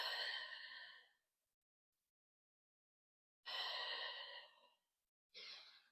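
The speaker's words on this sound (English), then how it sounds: "Deep breath in and out." A deep breath in and out during a Pilates reformer session with the chest and head dropped: two long, breathy exhales, then a shorter one after a quiet pause, close and soft with no talk.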